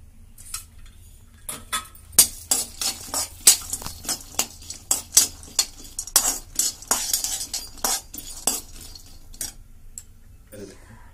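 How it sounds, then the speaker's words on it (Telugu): Cashews being stir-fried in a kadai, heard as a quick series of sharp scraping and clinking strokes against the pan, fairly close and rhythmic, with quieter gaps between bursts. "అదే కళాయిలో కాజు వేయించుకొని"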